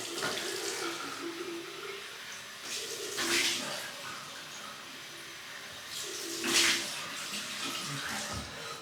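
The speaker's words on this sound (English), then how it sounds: "Cold water rinse." Cold running water pours steadily from a tap in a tiny brick-and-concrete shed, splashing as it hits something, with a couple of louder gushing surges; no voices.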